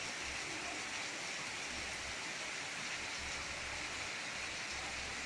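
Calm rain falls on a country property on a Sunday afternoon, a soft, even, unbroken hiss of steady rainfall with no voices over it.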